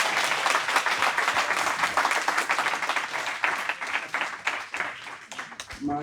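Dense, sustained applause from an audience after a spiritual talk, a thick wash of many hands clapping at fairly even loudness, tapering slightly toward the end.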